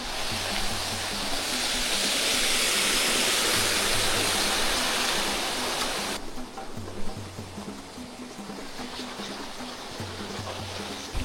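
A steady, loud rush of falling water fills the air, a dense broad roar that continues throughout without speech.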